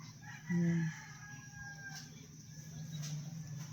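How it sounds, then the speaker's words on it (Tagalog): A short, loud chicken call rises near the start over a faint outdoor background hum. "May manok dito sa unahan, oh"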